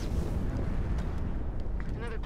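A deep, steady quake rumble from the Halo 5 video game rolls on as a continuous low roar for the whole stretch, with faint game effects flickering over it.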